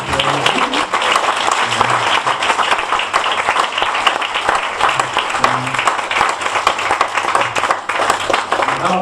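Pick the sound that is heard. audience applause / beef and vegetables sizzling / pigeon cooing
audience applause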